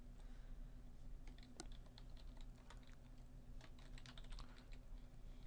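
Keys clatter on a computer keyboard as a password is typed for a new user account, a steady run of light clicks over a low, constant hum.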